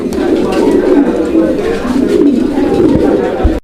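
Large, aggressive pigeons at a pigeon market in Bangladesh coo close by, a low, continuous throaty rolling that pulses steadily throughout.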